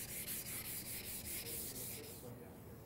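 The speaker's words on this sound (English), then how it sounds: "switch to 400 grit sandpaper on a sanding pad or any flat block" Steady rhythmic scraping of 400 grit sandpaper on a flat block over cast iron, a handful of even strokes close up, fading out at the end.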